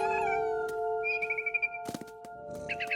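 Cat meowing in the video game What Remains of Edith Finch: a few short meows near the middle and again at the end, over a steady tonal game music bed, with no talking.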